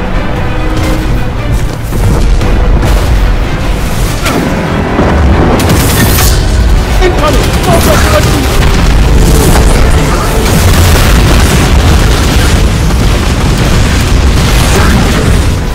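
Missile explosions in Destiny 2 boom and burst one after another in a loud, dense barrage, with the rumble running almost continuously through the battle.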